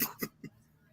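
A person coughs two or three times in quick, harsh bursts, close and fairly loud, then falls quiet.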